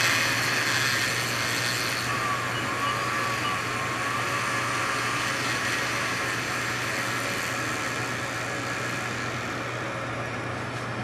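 A flexible shaft tool spins while lapping a carbide part with 15 micron slurry, making a steady, continuous mechanical whir and hum with a faint grinding texture throughout, close and moderately loud.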